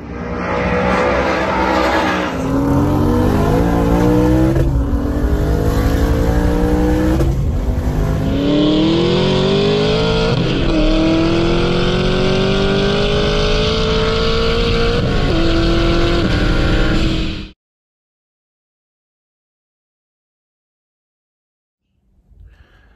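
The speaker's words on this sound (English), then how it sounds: "we took my stick shift Mach 1 with the Hellion twin turbo package and my wife's stick shift ZL1 out roll racing." A twin-turbo stick-shift Mustang Mach 1 with the Hellion package and a stick-shift Camaro ZL1 roll racing: loud engines rev hard and climb through several gear shifts, then the sound cuts off abruptly into silence.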